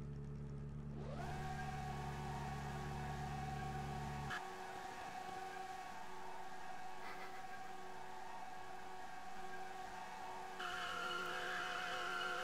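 Tires squeal and skid as a McLaren Elva spins donuts in a racing video game, a sustained tonal screech over a steady engine whir with a deep rumble dropping out partway through, loud and continuous with no talk.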